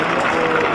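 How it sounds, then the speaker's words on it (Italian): A crowd applauds at an outdoor religious fire celebration at the Casaluce abbey sanctuary, dense steady clapping filling the short moment at moderate loudness. "Vorrei un applauso al signore della Torre che ha organizzato questo bellissimo fuoco, grande, un applauso, grazie."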